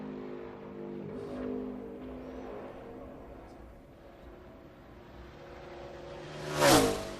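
A NASCAR race car runs laps at Kansas, its engine a steady roaring drone heard from a distance that swells and fades, then rushes loudly past near the end with a sharp whoosh.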